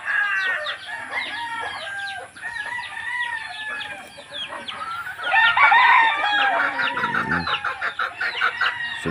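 Many chickens cluck and chatter continuously at close range, and a rooster crows loudly partway through, with more crowing and clucking after.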